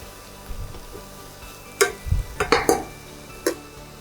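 Curry leaves dropped into a hot pan of sizzling shrimp heads, a few sharp crackles and pops with clinks of a utensil against the pan, close and alone over a low sizzle.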